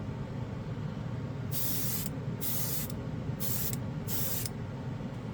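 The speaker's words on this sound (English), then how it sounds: "Trying to keep the airbrush off camera so you guys can see it going on." Bursts of airbrush spray applying metal paint to a model kit hiss in four separate blasts of about half a second each. They rise over a steady low background hum with no talk.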